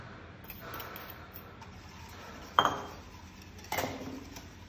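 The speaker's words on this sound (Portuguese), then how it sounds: "Agora junto as gemas e volto a misturar" Egg yolks being stirred into milk in a saucepan with the heat off, giving faint soft scraping and a couple of sharp metallic clinks of utensil against pan, close and quiet.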